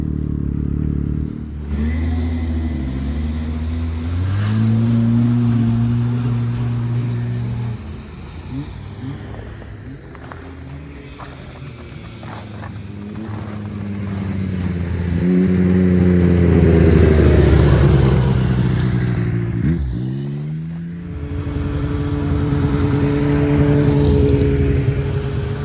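Several snowmobile engines, including a Polaris 850, idle and rev together at a gas station, a loud steady drone with rising and falling revs and strong harmonic whine throughout, no talk.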